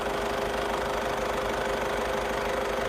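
A Honda City diesel engine idles with a steady, dense hum and a fine, even knocking texture that holds at the same level throughout, with no speech over it.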